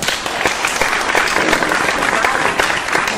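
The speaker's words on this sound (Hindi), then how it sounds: "तालियां बजा रहे हो ताली" Students in a classroom clap together in a dense, steady burst of applause that lasts throughout, loud and close, with voices mixed in underneath.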